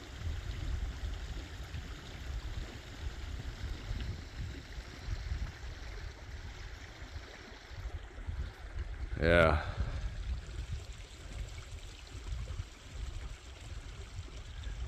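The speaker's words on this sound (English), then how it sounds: "It's kind of hard to hear your surroundings when they got creek water running by you." Creek water flows past in an Alaskan goldfield, a steady low rushing murmur close by, with a brief sharp chirp partway through and a short spoken word over the flow.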